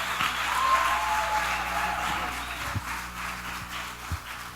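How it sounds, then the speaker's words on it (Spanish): Church audience applauding to welcome a pastor on stage, a fairly faint, sustained patter of clapping heard from across the hall. "pido que lo reciban con un aplauso"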